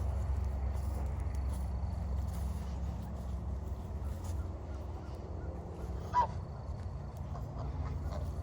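Geese honk in a farmyard where a rooster and hens are also kept, gathering for wild bird seed; a single brief honk cuts through a steady, loud low rumble.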